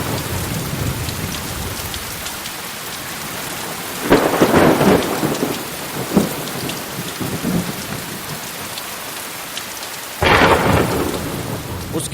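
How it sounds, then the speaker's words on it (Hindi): A thunderstorm with heavy rain hisses steadily throughout, broken by two loud rolling thunderclaps, one near the middle and another near the end. "बाहर बरसात हो रही थी"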